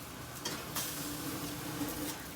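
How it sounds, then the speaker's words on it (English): A faint, brief crackling sizzle of spilled cooking liquid on a hot oven door, with a couple of soft clicks in an otherwise quiet room. "So I don't know if you heard it sizzle"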